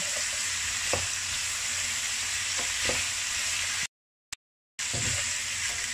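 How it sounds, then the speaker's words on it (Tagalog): Braised pork belly with oyster sauce frying in a pan: a loud, steady sizzle close by, broken by scraping stirs of a utensil, with a brief dropout near the end before the sizzle returns. "Tuloy lang yung halo para makombine, malagyan ba ng flavor lahat."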